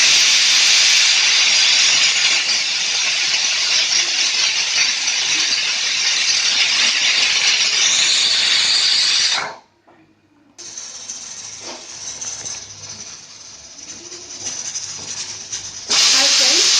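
A pressure cooker whistles and hisses steam while biryani cooks, a loud, steady, close hiss lasting several seconds, then a sudden stop, quieter venting, and a second brief burst.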